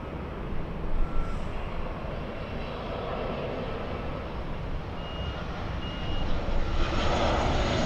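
Airplane taking off at Los Angeles International Airport, a broad steady jet engine roar that swells slightly toward the end, heard from a distance alone without talk.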